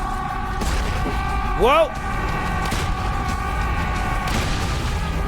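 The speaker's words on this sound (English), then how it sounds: "I'm trying to see if I can line up these cannon shots with the numbs" Cannon shots in the video game Serious Sam 4 boom under steady game music, with a rising whistling sweep in the middle and a brief spoken exclamation.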